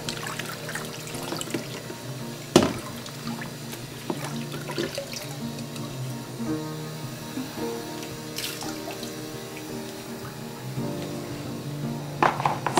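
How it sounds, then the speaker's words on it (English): Fresh water runs and splashes while rinsing veliger tank equipment after an acid clean, a steady faucet-like trickle with intermittent louder splashes and drips, close and fairly quiet. "fresh water rinse."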